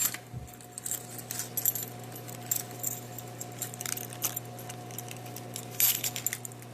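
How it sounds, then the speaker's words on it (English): A doohickey carabiner multitool with a dog tag jangling and clinking, light metallic rattles scattered through the clip over a steady low hum, close and fairly quiet. "instead of a carabiner, I've got this thing called a doohickey"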